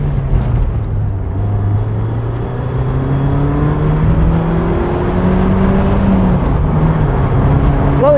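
A 1996 BMW Z3 roadster accelerates through the gears from inside the cabin, its engine note rising steadily in pitch, then dropping at a shift and climbing again, loud and close, with brief talk near the end.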